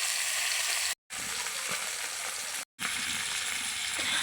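Tilapia fish sizzling as it fries in oil, a dense, even crackling hiss at moderate level, interrupted by two brief silent breaks and carrying occasional soft pops.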